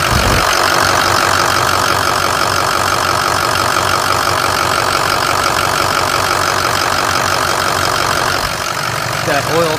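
An engine idles steadily while warming up during an oil leak check with a leaking oil pressure switch. It makes a loud, continuous close-up rumble with a fast, even pulse that holds unchanged throughout.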